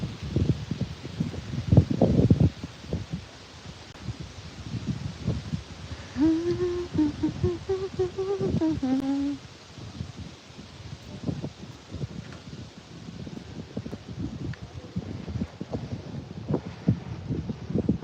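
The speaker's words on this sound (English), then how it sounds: "the wind is coming" Outdoor wind rushes steadily past the microphone on an afternoon walk in New York City, a broad continuous roar with gusting swells and rustle, while a brief bird-like warbling chirp rises faintly in the middle.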